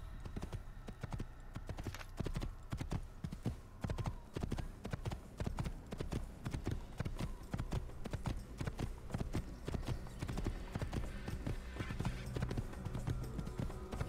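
In Assassin's Creed, a horse's hooves clip-clop in a fast, even rhythm throughout, loud and close, layered over game music and background ambience.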